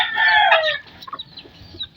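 A hen gives a loud, close, drawn-out cackling call that then drops into a few soft, scattered clucks amid faint background noise.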